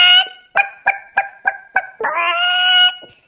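A human voice imitates a chicken: six short, loud clucks in a quick, even rhythm, then a long drawn-out squawk, all close and alone.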